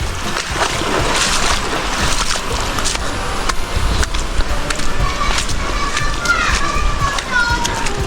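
A river runs strongly along a jungle trail leading to Pag-ibig Falls, giving a steady, broad rush of splashing water throughout, with a voice talking over it.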